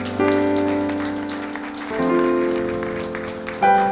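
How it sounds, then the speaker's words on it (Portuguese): A church congregation claps along in praise, a dense patter of applause layered over sustained keyboard chords that change twice, loud and continuous for about four seconds. "Vamos aplaudir ao Senhor, irmão?"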